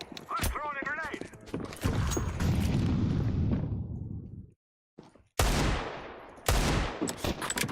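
Loud video game gunfire and a booming blast hit in abrupt bursts, a sustained roar of shots and explosion noise that cuts to brief silence, then slams back with more heavy cracks while a voice talks over the start.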